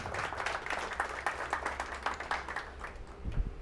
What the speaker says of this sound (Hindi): इनके लिए भी तालियां बिल्कुल होनी चाहिए।